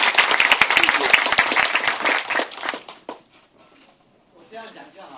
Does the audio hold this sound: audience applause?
yes